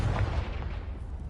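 A Confringo spell explosion in Hogwarts Legacy, a single booming blast that hits hard at the start and rumbles off quickly within a second, heard alone without talk.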